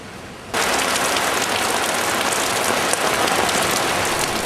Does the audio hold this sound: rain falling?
yes